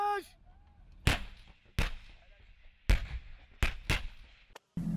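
Army artillery gun firing a series of loud, sharp blasts, five heavy booms spaced irregularly with rumbling decay between them, and a brief voice heard at the very start.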